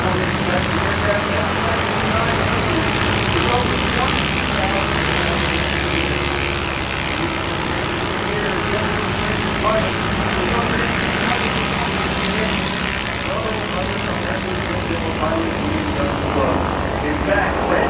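A MiG-17 jet fighter flies a performance at the 2025 Oshkosh EAA AirVenture airshow, its loud, steady engine roar filling the air beneath an announcer talking over the public address.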